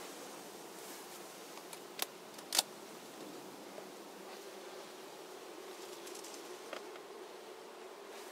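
Honeybees from a swarm housed in a Warré hive give a faint, steady hum throughout, with a few brief sharper ticks and rustles near the hive and no talking.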